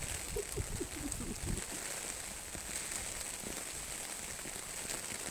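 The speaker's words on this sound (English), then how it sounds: "Standing here in the rain doing this." Steady outdoor rain pattering continuously on surfaces, a soft even hiss with scattered nearby drops, quiet and unbroken throughout.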